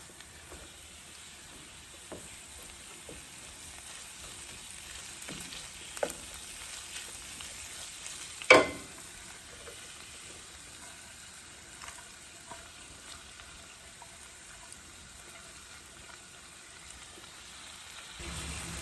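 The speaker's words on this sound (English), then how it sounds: "I'm just infusing my garlic and green onions" Garlic and green onions sauté gently in a pan for a Caribbean callaloo dish, giving a faint, steady sizzling hiss with a brief utensil clatter partway through.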